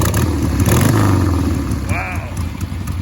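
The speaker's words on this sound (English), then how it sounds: "That actually sounds like a nice motor." A Harley-Davidson Roadster XLS1000 engine on a 1970s chopper build runs just after a valve adjustment, revving loudly at first then easing to a rough, clattery idle close by, with people talking over it.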